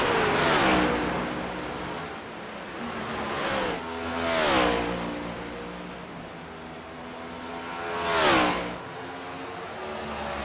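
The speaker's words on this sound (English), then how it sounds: "Cody Rivera is making his rounds off the final corner" Race car engines in iRacing at Watkins Glen rev and shift through gears, with three loud up-and-down sweeps as cars accelerate and pass, a constant mechanical drone between them.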